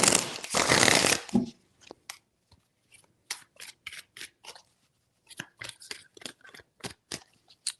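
A deck of tarot cards is shuffled: a dense riffling burst at the start, then a string of crisp, irregular card snaps and slides, close and fairly loud, with no talking.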